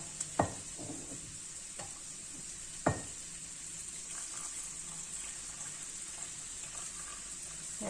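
Paella ingredients with saffron and broth being stirred in a pan over a steady hiss of sizzling, with a few close utensil knocks against the metal and no speech.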